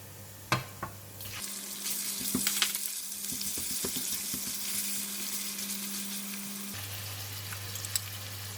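Minced pork and garlic frying in hot oil: a loud, continuous close sizzle with scattered spatter crackles and a few clinks of a utensil against the pan, with no talk.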